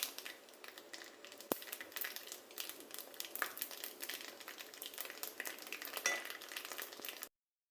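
Urad dal, mustard seeds and cumin crackle in hot oil for a drumstick leaf fry, a dense, fairly quiet sizzle full of tiny pops and a few stirring scrapes, with no talking, cutting off abruptly at the end.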